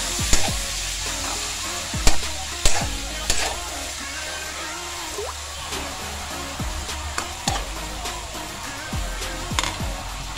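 Ampalaya con carne frying in a pan under constant stirring: a steady close sizzle with repeated sharp scrapes and knocks of a utensil, loudest early on, with no talk.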